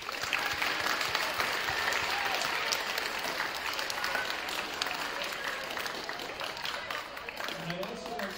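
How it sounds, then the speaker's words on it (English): An audience claps steadily in a school auditorium, sustained applause filling the whole stretch at moderate level with crowd noise and some voices mixed in. "Let's give her a round of applause."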